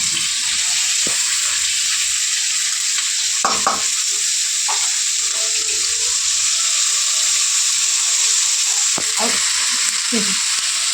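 Garlic, ginger and green chilli fry in a pan with a bright, continuous sizzle, close and loud, while a spoon stirs and scrapes against the metal in short clinking bursts throughout.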